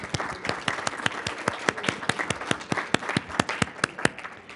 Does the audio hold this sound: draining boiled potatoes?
no